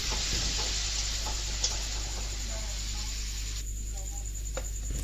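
Chopped tomato goes into a pan of sizzling ginger and green chili paste, giving a soft, steady frying hiss with a few light stirring clicks and scrapes at low, close-up level.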